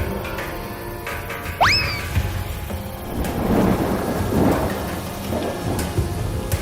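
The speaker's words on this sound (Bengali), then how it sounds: "বাইরে তো দেখছি বৃষ্টি শুরু হয়ে গেল।" A cartoon thunderstorm in a jungle setting: steady rain hiss with a rolling rumble of thunder building midway, plus a brief rising whistle-like tone near the start.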